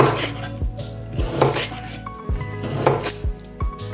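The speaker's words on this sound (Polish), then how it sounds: "Kiełbasę kroimy plastry." A knife slicing sausage into rounds on a cutting board in a home kitchen, with a series of crisp, close chopping taps at an uneven rhythm alongside faint clinks of kitchenware.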